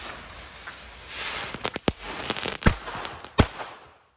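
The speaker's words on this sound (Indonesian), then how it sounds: "selanjutnya kita nyalakan mercon kretekan Thor. Kretekan paling jumbo ini guys." A fizzing hiss builds, then a jumbo firecracker bursts into a rapid string of sharp crackling pops and bangs, several loud cracks standing out before fading to quiet, during Eid celebrations.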